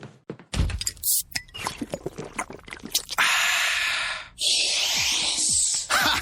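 A few thunks and clicks, then a sharp hiss of fizz as a can of Coke opens, followed by a sustained bubbling pour that swells loud close by.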